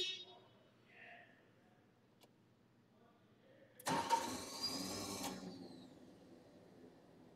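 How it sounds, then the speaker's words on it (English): Horn of a Caterpillar GC25K propane forklift sounds in one loud, steady blast lasting about a second and a half, then the idling engine hums on quietly underneath. "There's also a horn here as well."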